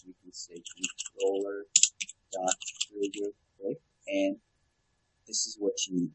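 Code being typed on a computer keyboard for a Unity VR project: scattered quick keystroke clicks in short bursts, close and fairly faint, alternating with a person talking.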